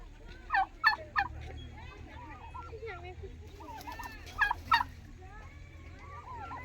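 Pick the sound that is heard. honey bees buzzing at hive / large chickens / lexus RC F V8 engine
large chickens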